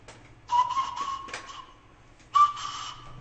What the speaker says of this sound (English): Bird whistle is simply the ends that are cut off the flutes are used to create these little whistles.